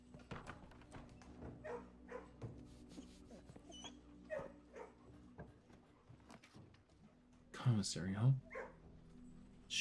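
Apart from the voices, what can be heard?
dogs barking in the video game Blue Prince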